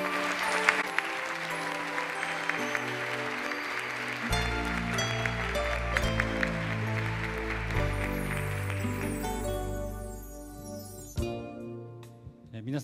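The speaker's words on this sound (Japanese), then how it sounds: "皆様、大きな拍手でお迎えください。" Audience applause greets an official from the Ministry of Agriculture's Kinki regional office at the 2022 Miss SAKE Japan final selection. Steady clapping carries on under sustained music for about ten seconds, then fades out.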